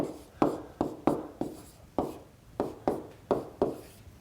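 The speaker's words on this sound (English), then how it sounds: "let me write this expression a lot bigger" An expression being written large on a board, about a dozen firm, scratchy strokes in an uneven rhythm, close and clear with each stroke trailing off quickly, no voices.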